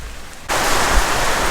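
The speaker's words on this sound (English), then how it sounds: "all of a sudden the whole sky turns gray, and it opens up in these somewhat torrential rains" Torrential monsoon rain in Kathmandu, Nepal, surges in abruptly as a loud, dense hiss that stays steady and close, with no voices.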